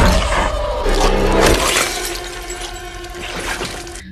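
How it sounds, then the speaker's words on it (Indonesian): A glass bottle shatters loudly in a bathroom during a violent attack in a horror film, a burst of breaking glass with scattering shards, set among dense dramatic film sound. "memasukkan botol ke tenggorokannya dan memecahkan botol itu"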